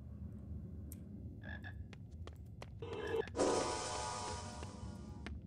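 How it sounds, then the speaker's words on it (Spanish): A frog croaks in short, bursty calls during a Harry Potter video game session. The calls start sparse and faint, then grow into a louder, dense rattling croak that runs for about two seconds near the end. "¿Otra rana?"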